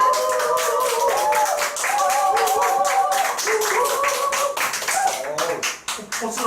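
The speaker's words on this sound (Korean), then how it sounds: "박수 나온다" Clapping from an audience at a business training event, brisk rhythmic claps heard under a voice speaking or calling out over them, fading toward the end.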